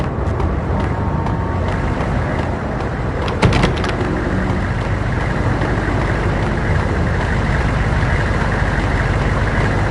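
Heavy rain hisses steadily through a stormy night in the Max Payne game, with a brief sharp thunder crack about a third of the way in and a constant low rumble beneath.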